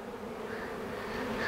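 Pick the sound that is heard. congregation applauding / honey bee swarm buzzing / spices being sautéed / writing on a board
honey bee swarm buzzing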